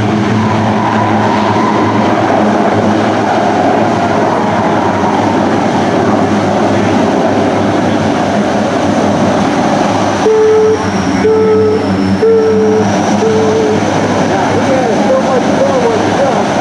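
A C-130J Hercules at an airshow roars steadily and loudly in reverse thrust, a broad sustained drone with tonal whines shifting partway through, and people speak underneath.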